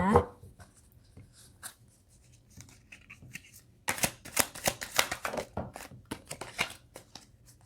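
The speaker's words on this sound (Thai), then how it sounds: "เราจะมาเริ่มในส่วนของการสับไพ่แล้วก็แอบส่องไพ่เขาเลยนะ" Tarot cards being shuffled by hand close up: faint rustles and taps at first, then a busy run of crisp riffling, slapping card bursts through the second half.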